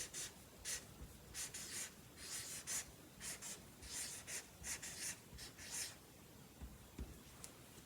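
Pencil scratching on paper while notes are written, a steady run of short quiet strokes in close, irregular bursts with no talk.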